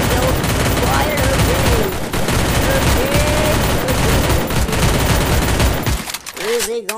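Rapid bursts of automatic gunfire from the video game Free Fire, dense fusillades of loud shots rattling continuously for about six seconds, then a brief lull with a few electronic tones.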